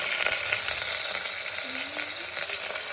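Onions sizzle and fry steadily in a hot pan, a dense continuous crackle heard close up with occasional stirring scrapes and no talk.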